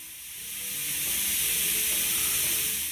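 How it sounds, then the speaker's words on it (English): An air-operated vacuum fluid extractor hooked to a compressed air line, drawing transmission fluid from a Silverado's 8L90 transmission: a continuous airy hiss that swells over the first second and then holds steady and fairly loud. "This one's air operated, so you just hook a compressed air line up to it and it starts sucking"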